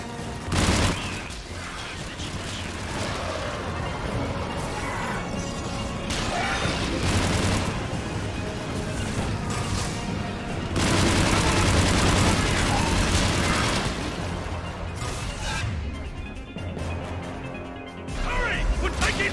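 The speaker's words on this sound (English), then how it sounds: "Hurry! We're taking fire!" Sustained gunfire rattles through a Mass Effect firefight in rapid bursts and crashes, loud and near, with voices shouting over the shooting.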